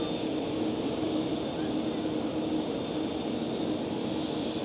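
Airliners taxiing toward the runway at Schiphol Amsterdam airport, heard as a steady, continuous jet engine drone and broadband rumble from a panoramic terrace, with a faint whine and no distinct voices.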